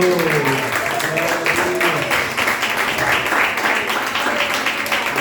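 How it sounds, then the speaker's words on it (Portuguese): A church congregation at a New Year's Eve service breaks into sustained, loud applause, a dense steady wash of clapping from a large crowd, with a voice speaking over it at the start. "Aplauda, Senhor."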